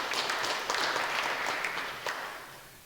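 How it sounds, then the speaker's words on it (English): Audience applause fills a music and poetry night, a dense steady patter of many hands clapping close and full, then slowly thinning and fading toward the end. "Now, give yourself a round of applause"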